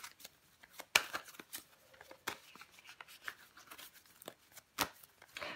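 Crisp riffling and snapping of tarot cards being shuffled and laid out, a quick series of sharp flicks and slaps, close and fairly quiet with no talking.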